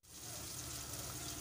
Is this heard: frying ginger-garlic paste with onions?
yes